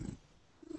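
A cat purring softly up close, with a low rumbling burst at the start and another at the end, quiet in between.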